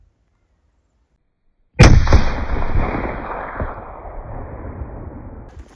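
A single loud rifle shot during a deer hunt in a New South Wales state forest, cracking sharply after silence and then trailing off in a long echoing decay.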